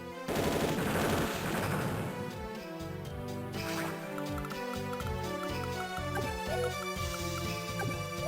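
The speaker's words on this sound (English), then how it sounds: "Take our tanks and have them engage the tank column up here" Tanks firing in the Advance Wars Dual Strike handheld video game, rapid chiptune-style gunfire bursts layered over upbeat synthesized battle music, no talking.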